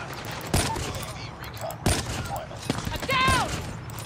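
COD Mobile gunfire: sharp close shots crack out at irregular moments over a busy game soundscape, with short whistling synthetic tones near the end and voices speaking underneath.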